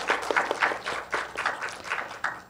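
An audience at an art forum at Korea's MMCA applauds in a moderate, fairly quiet burst of clapping with uneven rhythmic peaks.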